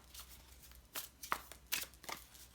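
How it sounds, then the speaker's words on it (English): Matte Bonestone and Earthflesh tarot cards being shuffled by hand, a few soft riffling bursts at moderate closeness, quiet and separated by brief pauses, with no talking. "they shuffle very, very easily, as you can tell"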